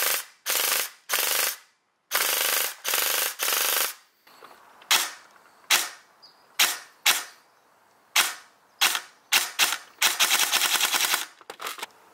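An airsoft AK rifle with PTS magazines fires in full-auto bursts: several loud, sharp rattling volleys of varying length, the longest near the end, separated by short pauses and single cracks close by.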